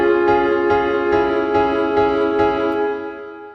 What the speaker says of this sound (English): you're basically switching the minor and major chords